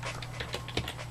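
Keys on a computer keyboard tap in a quick, irregular run of light clicks over a low steady hum.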